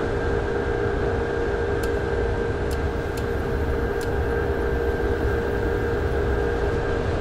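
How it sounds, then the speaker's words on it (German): A train rolls past at a station serving the new airport, giving a steady, broad rushing roar that holds evenly throughout, with a few faint high clicks on top and no voices. "Ah, fuhr noch ein Zug vorbei."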